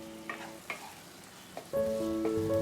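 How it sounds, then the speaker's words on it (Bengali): Spatula stirring tomato through tilapia fish gravy in a pan, a few soft scrapes and taps, then a steady sizzle with a tonal hum as the pan heats; close and fairly quiet, no voices. "টমেটোটাকে একটু খুন্তি দিয়ে ভালো করে মিশিয়ে নেব"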